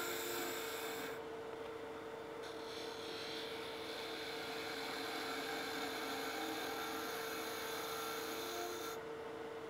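A woodturning tool cuts a goblet spinning on a lathe, producing a steady, faint scraping hiss over a constant low motor hum, with short stretches where the cutting eases off.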